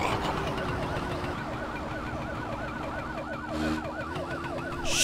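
A police car siren wails in rapid repeating up-down sweeps, fairly distant and steady over a low traffic rumble, with a brief burst of noise late on; no voices.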